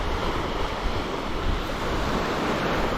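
Sea waves wash onto a beach in a continuous broadband roar, steady and close with slight wind noise, no voices.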